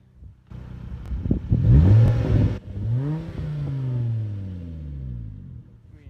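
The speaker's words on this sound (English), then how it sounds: "Here, I'll give you guys a little rev." A 2005 Volvo S40 2.4i five-cylinder engine revs up sharply from idle, climbs to a brief loud peak, then falls back and holds a steady, slowly settling drone, heard close and alone.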